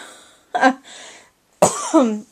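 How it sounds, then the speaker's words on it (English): A person coughs twice at close range, two short harsh bursts separated by a brief silence. "Or a cough, that works too."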